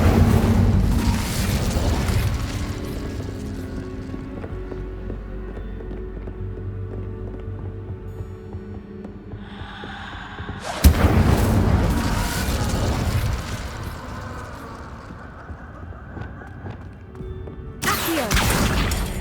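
Incendio fire spell in the Hogwarts Legacy game bursts out in loud whooshing blasts, a big roaring rush at the start and sharp eruptions near the middle and end, with rumbling game ambience between.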